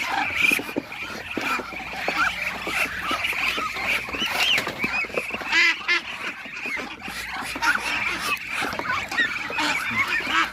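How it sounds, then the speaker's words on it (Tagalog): A crowd of ducks being fed quacks and honks continuously at close range, busy overlapping calls with no talking. "Kaya magpakaon sa ko sa mga pato"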